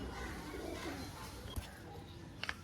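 Pigeons, including Tippler, Dasu, Giribaz and Madras breeds, coo softly nearby in a quiet space, with a couple of brief knocks and fluttering sounds breaking through.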